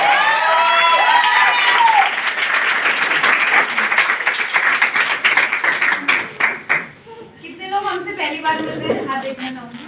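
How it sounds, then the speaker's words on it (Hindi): At a Modicare gathering, a crowd claps loudly with shouts and cheers, the applause thinning into scattered claps before voices and chatter take over at the end. "जोरदार तालियां मेरे लिए।"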